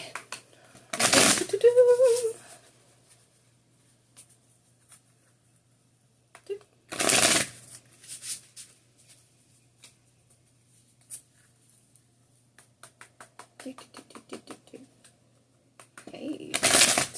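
A deck of playing cards is shuffled over and over in separate bursts, each a dense riffling flutter close to the mic, with quiet gaps and faint tapping between passes.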